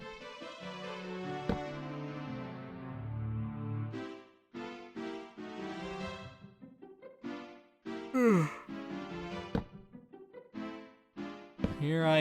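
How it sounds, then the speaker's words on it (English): A person yawning with long drawn-out breathy and voiced tones, including a rising stretched wail partway through, set between stretches of humming voice, close and fairly loud. "Here I am yawning again."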